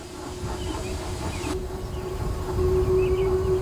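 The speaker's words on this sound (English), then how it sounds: "the air was filled with the sound of an approaching engine" A train rumbles steadily with a low droning engine tone and a faint hiss, growing slightly louder toward the end; no voices.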